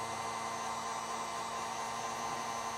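A heat gun blowing hot air to shrink heat-shrink tubing over wire connections on a trailer wiring harness, a close, steady whooshing roar with no breaks.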